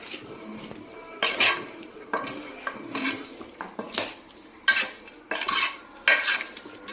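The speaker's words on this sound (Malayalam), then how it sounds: "കുക്കറിൽ തന്നെ ഇട്ട് മിക്സ് ചെയ്യണം." A spoon stirs and mixes beef inside a pressure cooker, repeated loud metallic scrapes and clanks against the pot in irregular bursts, with faint sizzling between strokes and no voices.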